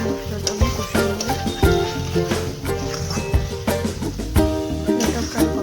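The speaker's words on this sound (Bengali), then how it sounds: "মশলাটা আমি কষিয়ে নেব।" Spice paste of chilli powder and cumin powder being sautéed in a pan for a fish head and potato curry, with a continuous sizzle and a busy scrape of stirring, over faint music.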